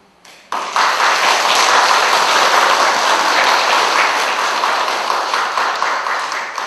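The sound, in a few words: applause at a Buddhist dharma service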